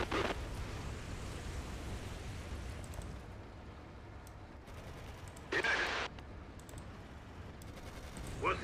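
Battle gunfire and explosions in the WWII strategy game Codename: Panzers, a dense continuous rumble of shots and blasts with a few sharper bursts, loud and steady throughout.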